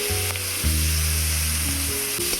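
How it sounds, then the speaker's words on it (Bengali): Sizzling carrots frying in a pan for chicken chow mein, a steady loud hiss with low hum underneath, close and continuous with no talking. "গাজরটাকে আগে একটু ভেজে নেব, তারপরে ক্যাপসিকামটা দিয়ে দেবো।"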